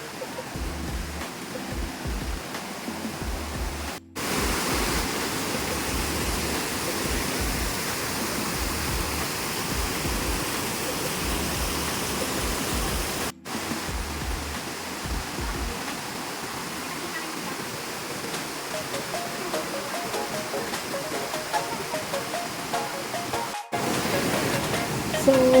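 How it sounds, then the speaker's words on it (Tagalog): A steady, loud roar of rushing water at Sangbay Falls in La Union fills the whole stretch, broadband and constant, with the waterfall close by and a few brief dropouts. "medyo malakas na yung tunog ng lagaslas"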